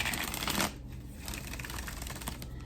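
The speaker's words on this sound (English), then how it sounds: "You have that kind of muffled papery sound when you shuffle cards." Plastic tarot cards riffle rapidly in a brisk, crisp burst up close, then a softer patter of cards continues briefly, with no one speaking.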